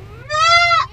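A young Etawa goat kid bleats once in a livestock pen, a clear, wavering, rising call lasting under a second over low barn background noise.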